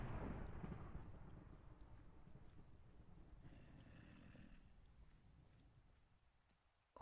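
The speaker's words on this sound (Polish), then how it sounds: "Ta burza tutaj mnie nie cieszy w ogóle" Thunderstorm in the game Minecraft, a low rolling rumble of thunder that fades slowly over several seconds into near silence, with no talk, ending in a sudden short burst.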